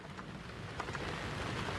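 Steady rain pours outdoors with a dense, even hiss, rising slightly, with no talking and a low rumble underneath.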